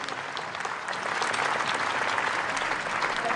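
A crowd gives sustained, hearty applause for a boys' choir at a 2015 concert event, a dense, even roar of clapping throughout.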